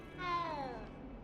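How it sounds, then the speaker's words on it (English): A cat in Hogwarts Legacy gives a single clear, drawn-out meow with a falling pitch, close by and alone. "Oh, it's a cat."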